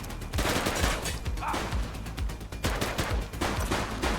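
Rapid bursts of gunfire in the police video game The Precinct, dense overlapping shots and crackling volleys at close range, loud throughout the short burst.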